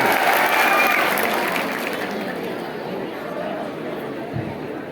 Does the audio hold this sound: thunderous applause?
yes